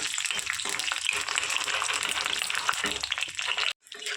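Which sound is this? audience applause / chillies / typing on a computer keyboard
chillies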